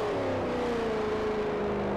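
A Jaguar E-type engine in the racing game Forza Motorsport 4: a steady, moderately loud whining drone, pitch sliding gently downward as the revs ease, with a continuous hum underneath and no voices.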